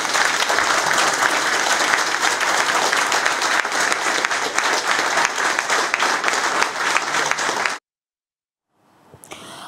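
A large audience claps loudly and steadily at a military award ceremony honoring Artsakh heroes, dense sustained applause that cuts off abruptly near the end, followed by a brief silence and faint room sound.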